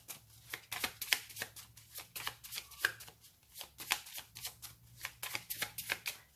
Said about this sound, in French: Allez, je les brasse pour nettoyer le jeu du précédent tirage.